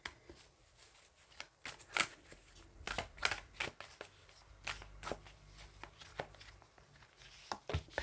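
A deck of tarot cards being shuffled up close, a run of quick papery riffles and flicks in uneven bursts with soft handling noises between them, quiet and with no talking.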